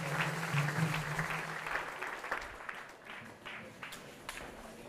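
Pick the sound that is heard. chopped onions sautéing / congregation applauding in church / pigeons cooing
congregation applauding in church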